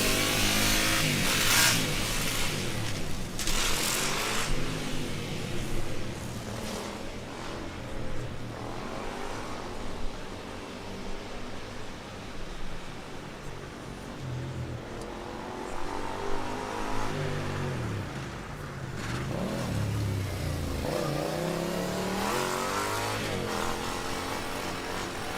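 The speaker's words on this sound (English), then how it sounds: "Car 232 from Iasi also made it out onto a track." A Formula Student race car runs an autocross course at a cautious pace on its first run, its engine droning and rising and falling in pitch through the corners, fairly steady and moderately loud throughout.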